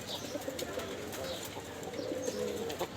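Pigeon cooing, low soft murmuring calls repeating over a steady noisy background, with a few faint chirps, near and moderately loud, from a pigeon keeper's birds during hot weather.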